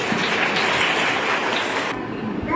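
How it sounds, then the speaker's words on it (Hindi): Audience applause welcoming a poet at a school poetry recital, a dense, steady patter of many hands that breaks off sharply near the end. "जरा तालियों से उनका स्वागत कीजिए।"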